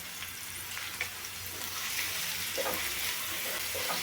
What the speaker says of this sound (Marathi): आता आपण कांदा लवकर भाजावा किंवा मऊ पडावा त्याच्यासाठी ह्याच्यामध्ये मीठ आपण घालून घेतो